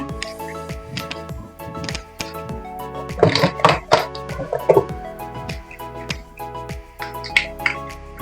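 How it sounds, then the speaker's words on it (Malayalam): Sharp, irregular pops and crackles of mustard seeds bursting in hot oil for lemon pickle, quick and close, clustering more densely in the middle; a faint tonal hum underneath. "നമ്മുടെ കടുകൊക്കെ നന്നായിട്ട് പൊട്ടി വരുന്നുണ്ട്"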